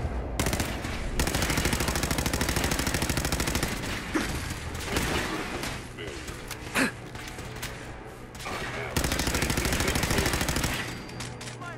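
Rapid automatic gunfire from a gun in Fallout 4, loud and sustained in long bursts with brief pauses. A few gasps and sighs come through, and there is no clear speech.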